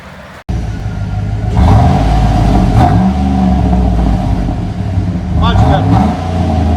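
Chevy Tahoe Z71 with a 5.3L V8 and aftermarket single muffler exhaust revving up close, deep rumbling surges rising and falling twice with a steady idle between.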